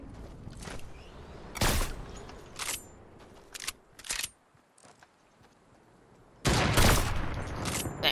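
Gunfire from a shooter video game comes in sharp bursts: a loud volley early, a few single shots and clicks in the middle, and a long heavy burst near the end, with quieter game ambience between.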